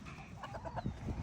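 Several short clucks from chickens, fairly close, with rustling and outdoor noise around them.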